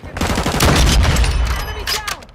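Short rapid burst of gunfire in a first-person shooter, loud and close, with a player talking over it.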